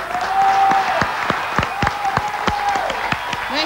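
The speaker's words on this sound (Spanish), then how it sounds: "Aplausos para el participante número uno." An audience applauds the first contestant in a singing competition, scattered sharp claps and a crowd roar under a sustained tone from a whistle or instrument, fairly loud and lively.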